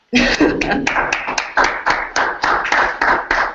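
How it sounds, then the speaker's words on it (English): One person claps about a dozen times, close and loud, in a steady, slightly uneven rhythm with short gaps between hits. "I'll give you a clap, even though it's digital clap."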